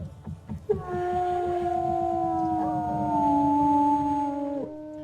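A wolf in the video game WolfQuest howls back with a long, sustained, wavering howl that rises and slowly falls over several seconds, loud and close, after a few brief low thumps at the start.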